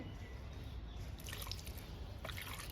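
Liquid fertilizer poured onto an indoor potted plant, a soft, quiet trickle and a few drips landing on soil and leaves at close range, with no talking.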